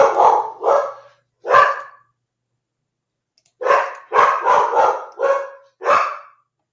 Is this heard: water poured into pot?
no